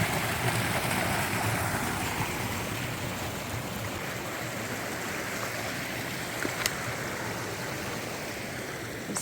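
A cold mountain stream rushes steadily in the Goat Rocks Wilderness along the Pacific Crest Trail, a dense, continuous broadband wash of flowing water close by with no voices.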